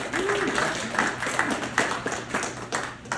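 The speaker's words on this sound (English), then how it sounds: "Bryson, let's give him a round of applause" Applause for a new employee introduced at a company gathering, a small group clapping in uneven bursts, moderately close, with a voice briefly heard over it.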